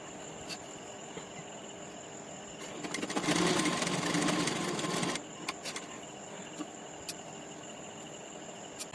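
A sewing machine stitches the lower portion of a gents' half panjabi, running in one steady, fairly loud burst of about two seconds mid-clip, with quiet room sound before and after.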